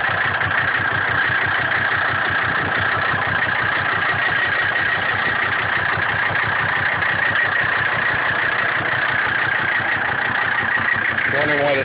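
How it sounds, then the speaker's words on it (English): A 1984 Mercedes-Benz 300D turbo diesel idles with a steady, loud, dense clatter, running slightly cold through a badly damaged exhaust system, continuous and close throughout. "that's just a massive sound of the diesel"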